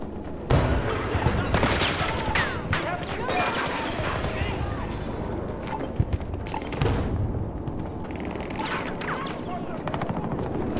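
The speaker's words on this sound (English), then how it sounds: "Grenade out!" Battlefield 2042 firefight with dense, continuous gunfire and booming blasts, a grenade explosion among them, loud and chaotic throughout with brief voice callouts mixed in.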